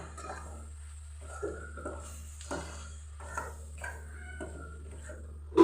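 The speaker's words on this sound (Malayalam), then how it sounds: "എന്നിട്ട് നമുക്കൊന്ന് ഇളക്കാം" A spoon scrapes and stirs spiced masala of chilli powder and coriander powder in a pan for prawn curry, making soft intermittent strokes with a faint sizzle over steady low hum, close and quiet, with no talking.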